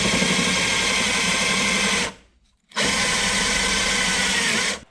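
Power drill with a spot weld cutter biting into a rusty rocker panel on a Mercury Sable station wagon, a loud, close, grinding whine in two long bursts split by a short pause.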